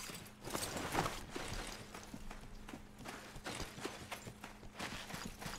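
Quiet rhythmic clip-clop of horse hooves at a steady trot in Mount & Blade, soft and somewhat distant, with faint game background sounds.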